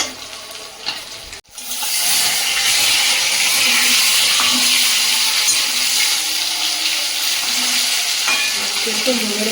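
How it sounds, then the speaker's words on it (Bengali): Fish, a local freshwater variety, fries in hot oil in a pan with a steady, loud sizzle after a brief pause, with a faint clink of utensils near the end. "এদিকে কিন্তু তোমার মাছ ভাজাও হয়ে গেছে"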